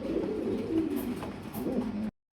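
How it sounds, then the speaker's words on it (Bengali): Pigeons at a pigeon farm coo steadily in low, rolling throaty calls, several birds close by overlapping continuously before the sound cuts off abruptly near the end. "6 পেয়ার কবুতর আছে এটা।"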